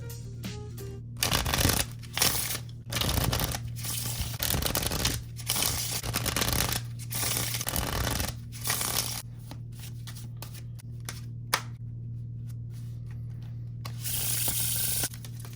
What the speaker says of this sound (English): now I have shuffled the cards